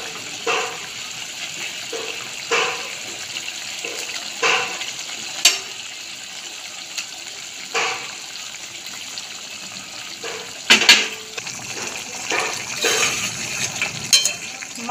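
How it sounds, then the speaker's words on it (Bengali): Fried parshe fish in a boiling Bengali tel jhal gravy, soft bubbling and sizzling with occasional stirring clinks and splashes, fairly close and steady across the stretch. "গ্রেভি ফুটে গেছে, ভাজা মাছগুলো গ্রেভিতে দিয়ে দেবো।"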